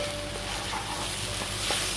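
Poppy and mustard seed paste, ground on a grinding stone, fries in a pan with a steady, soft sizzle and faint scraping, held at an even low level throughout.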